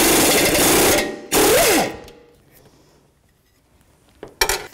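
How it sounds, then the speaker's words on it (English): A half-inch impact gun on a swivel loosening an engine mount bolt on a 1984-2001 Jeep Cherokee, with two loud bursts of hammering, a short one after a pause and a final brief rattle. "I'm gonna bring my half inch gun in this way with a swivel and see if I can get this mount loose."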